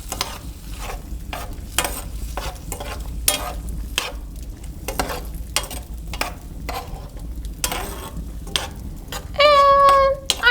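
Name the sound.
stirring spices into vegetable fricassee in colonial kitchen pan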